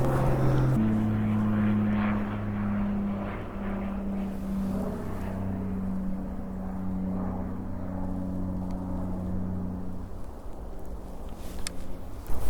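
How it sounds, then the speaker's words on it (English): A propeller airplane passes overhead above snowy winter woods, a steady humming drone with a low tonal whine that holds for about ten seconds before thinning, distant and moderately loud. "There's just a plane going by there."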